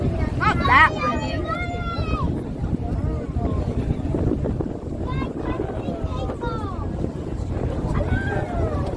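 A water taxi crossing to Centre Island in Toronto rumbles along under heavy wind buffeting the microphone. People talk throughout over the steady engine and water noise.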